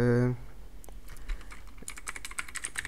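Quick, irregular keystrokes on a computer keyboard, typed into a Windows search box, follow a brief burst of voice at the start and continue close up in small clusters of clicks.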